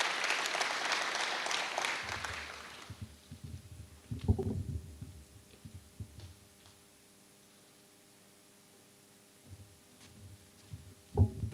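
Applause at a groundbreaking ceremony for Landmark Hall fills the first three seconds densely and fairly close, then gives way to quiet room sounds with a few scattered bumps and brief murmurs.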